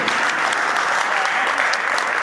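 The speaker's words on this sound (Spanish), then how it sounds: "pido también un aplauso porque es un joven" An audience applauds steadily and loudly for a young former town councillor, a dense unbroken wash of clapping with no let-up.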